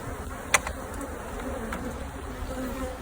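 An angry bee swarm buzzes steadily close around, a dense continuous drone with one sharp brief spike near the start, no voices.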